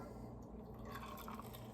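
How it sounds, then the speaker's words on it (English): Soft, steady pouring of soda water into a glass with faint fizzing and dripping, close by and quiet, no voices. "gonna take some soda water, top it off a little bit with soda water"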